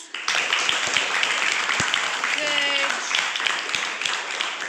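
Classmates in a 7th-class storytelling session clap for a student, a brief burst of moderately loud applause filling a few seconds in the room.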